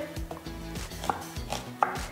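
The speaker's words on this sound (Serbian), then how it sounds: "ja ću da iseckam luk na kockice" Onion being diced into cubes on a cutting board gives a series of soft, regular knife chops, about six or seven close thuds in quick rhythm, fairly quiet with no talking.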